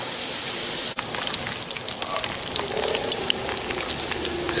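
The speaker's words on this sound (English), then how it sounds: "It's frying some French fries." French fries sizzle and crackle steadily in hot oil in a fajita fry pan, a dense close hiss with scattered pops and one brief dip in the frying noise.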